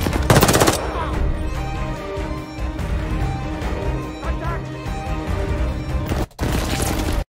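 Automatic rifle fire from a .30 Russian short 60-round-magazine weapon in Call of Duty Vanguard, Stalingrad map: dense, continuous bursts of rapid shots and blasts throughout, loud and close, with a brief cutout near the end.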